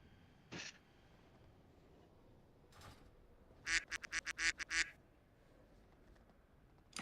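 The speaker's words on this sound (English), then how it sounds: "I hear the duck." A duck quacks during a mythic raid game session: one sharp quack, then a faint one, then a rapid burst of about seven loud quacks over a low background hum, with no talking.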